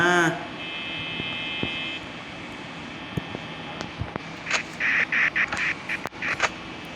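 A run of rapid, nasal duck quacks in a Roblox FNAF game comes in short bursts toward the end, following a steady electronic drone and scattered clicks.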